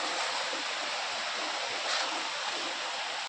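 Water rushes steadily at a scenic flowing-water spot near Ramdurg, a continuous broadband roar that stays loud and unchanging throughout with no pauses and no voices.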